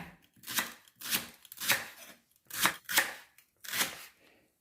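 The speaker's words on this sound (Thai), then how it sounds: "หอมญี่ปุ่นนี่ก็หั่นแว่นแบบนี้ค่ะ" A kitchen knife slices a Japanese onion into rings on a cutting board, producing six crisp, evenly spaced cuts that are close and fairly quiet.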